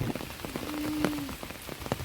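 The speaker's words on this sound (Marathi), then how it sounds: "पाऊस जोरात येतोय" Heavy monsoon rain pours down on a rural hillside trip, a close, constant hiss of drops striking surfaces with scattered sharper splats and no voices.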